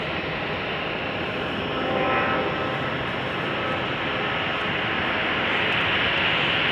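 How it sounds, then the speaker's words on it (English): A Lufthansa Airbus A350-900 from Munich passes on short final at Chicago O'Hare, producing a constant, loud broadband jet roar that swells slightly around the middle and again toward the end, with no talking. "Lufthansa Flight 434 from Munich, Germany, an Airbus A350-900."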